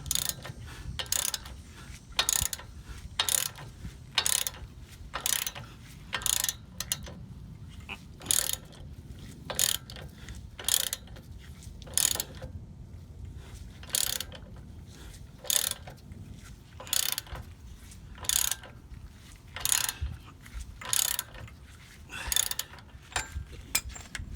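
Ratchet wrench working a bolt loose on a Dodge Ram lower control arm, loud close clicking bursts repeated in a steady rhythm of roughly one stroke per second, no talking.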